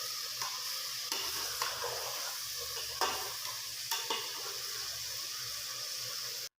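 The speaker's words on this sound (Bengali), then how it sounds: "5 মিনিট পর আবার মিক্স করে দিয়ে ভালোভাবে নেড়ে দিবেন" A cauliflower and fish curry stirred in a pan, with several distinct spoon scrapes over a low, steady simmering sizzle, fairly quiet and close.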